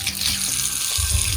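Water running steadily from a bathroom tap, a continuous broad rushing hiss that fills the whole clip with no voices.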